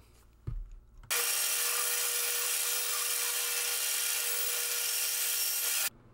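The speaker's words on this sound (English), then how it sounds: "Using a piece of scrap, I cut the boards that will hold the table to the legs." Power saw cutting scrap wooden boards, 2 inches wide and 1 inch thick, into table-to-leg supports: a short thump, then a loud, steady broadband whine that runs without a break for about five seconds and stops abruptly.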